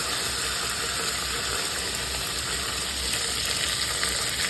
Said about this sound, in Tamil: வெங்காயம் கருவேப்பிலையும் சேர்த்துக்கிறேன்.